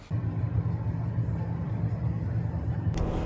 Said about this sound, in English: It was just the exhaust back pressure valve doing what it's supposed to do when the truck is cold